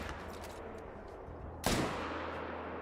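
A single sharp hunting rifle shot rings out in Call of the Wild, a loud crack with a trailing echo over quiet outdoor ambience.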